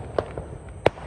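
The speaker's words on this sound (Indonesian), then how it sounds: "kembang api sudah menyala semuanya." Two sharp bangs from Roman candle fireworks on New Year's Eve in Ngawi, a moment apart, the second louder, over a low background rumble.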